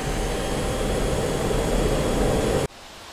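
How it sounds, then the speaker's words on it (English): Jet engine with afterburner roaring in the DCS World flight simulator, a loud, steady broadband blast that holds for over two seconds and then cuts off abruptly to a faint residual hum. "I guess I need my afterburner on."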